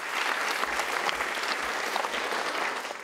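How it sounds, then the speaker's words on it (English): Audience applause for Courtney Davies after her Three Minute Thesis 2017 presentation at Massey University, steady dense clapping filling the room for about three seconds, with no talk over it. "A round of applause for Courtney."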